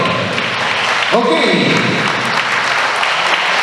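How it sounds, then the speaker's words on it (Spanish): Clapping from guests at an 80th birthday family celebration, a steady wash of hands filling the room with a brief voice or cheer rising near the middle, continuous and fairly loud throughout. "¿Dónde están las palmas, el cariño?"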